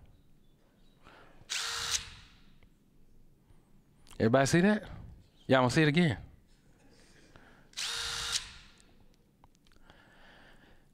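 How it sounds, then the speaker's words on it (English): A handheld power drill whirs in several short bursts, near and loud, its motor revving up and winding down between pulls of the trigger, with someone speaking briefly in the pauses. "Does everybody see this drill here?"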